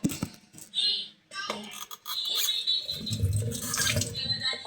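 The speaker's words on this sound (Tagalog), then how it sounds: "So I'm gonna put water on it." Water is poured onto a squishy toy, splashing and trickling in short bursts, with a voice talking briefly near the start.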